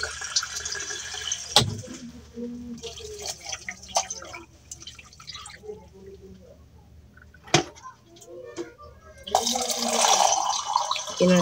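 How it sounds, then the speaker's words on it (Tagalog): About one and a half glasses of water are poured into a cooking pot, giving a soft, uneven trickle and splash with occasional sharper knocks, close by. "Lagyan natin ng isa't kalahating basong tubig."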